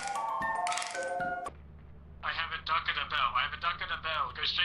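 In the video game Lethal Company a bell item rings out with bright, ringing tones for about a second and a half, followed by excited talking over a low background hum.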